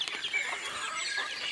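Native chickens cluck and chatter continuously in a busy, close-up flock, with a steady hum of overlapping bird noise.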